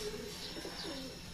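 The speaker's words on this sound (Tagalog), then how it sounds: "Papasok na yung ibon." A homing racing pigeon arriving back at its loft during a sprint race in San Jose, Nueva Ecija, gives soft, faint cooing calls close by.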